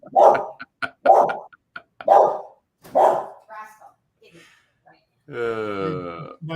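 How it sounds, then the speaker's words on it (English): A dog barks five times in a steady sharp series close to the microphone, followed by quieter whimpering and a drawn-out whining howl, with a voice briefly in between. "My dog's right behind me"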